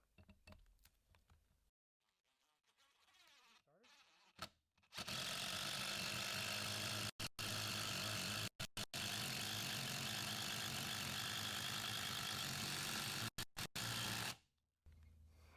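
DeWalt impact driver set on high, sinking a screw with a T30 bit: a loud, steady hammering whir runs for about ten seconds, broken by a few split-second pauses, with no talking.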